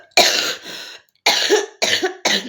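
A person with a sore throat coughs in four sharp, harsh bursts, close and loud, the first two run together and the last two spaced quickly, with silence between.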